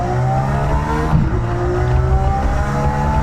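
A race car drives laps on a triangular oval speedway, its engine droning loud and steady with rising and falling pitch as it accelerates close by.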